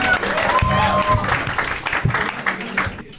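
Audience applause at a live Marathi comedy show greets comic Ganesh as he is called up, steady clapping filling the room over about three seconds with voices and laughter mixed in.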